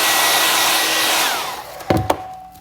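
An electric heat tool blows hot air onto a rolled candle, a loud steady rushing whoosh that fades slightly before it is switched off, followed by two sharp handling knocks.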